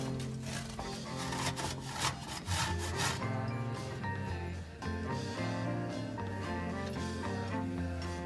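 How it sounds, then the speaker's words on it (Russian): Dutch cheese rubbed across a fine grater gives steady, continuous rasping strokes, close and moderately loud, over background music. "Голландский сыр натираю на мелкой терке."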